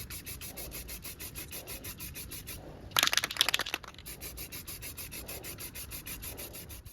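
Filler primer wet-sanded by hand with soaked 400 or 600 grit sandpaper in quick back-and-forth strokes, a soft steady rasping rhythm close to the ear, with a brief louder scrubbing burst partway through.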